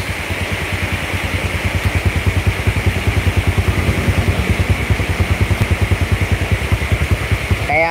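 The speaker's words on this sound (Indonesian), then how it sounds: "Ini suara mesinnya, Bos." A restored Yamaha Jupiter Z motorcycle engine idling steadily up close, with a fast, even rhythmic putter throughout and no talking.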